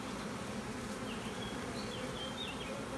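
Steady, dense buzzing of many honeybees from an open hive during a spring check before adding a second super, with drones moving over the frames; the hum is continuous and close, with no talking.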